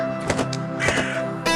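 A crow in an animated story caws a few times in close, harsh calls, heard clearly with no talk.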